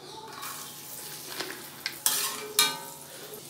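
Raisins frying in ghee in a small pan give a soft steady sizzle, with a few sharp clinks of a spoon against metal toward the end.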